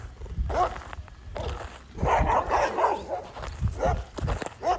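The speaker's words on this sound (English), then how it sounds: "it's a hella dogs over here. It's a husky over there too." Several dogs bark repeatedly at close to middle distance, one of them a husky, in bursts of loud barking with short gaps, with faint shuffling steps underneath.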